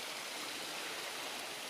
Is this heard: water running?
yes